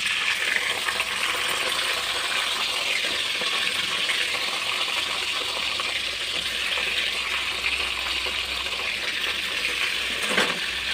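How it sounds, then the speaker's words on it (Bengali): Okra (bhindi) frying in hot mustard oil in a wok, a steady close hiss and sizzle with faint crackles and a brief stirring clatter near the end, no talk. "এবার আমি তুলে দেবো কিনা ভেন্ডি"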